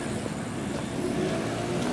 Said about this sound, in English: There's not many countries that I trust walking with the traffic and the traffic passing so close to me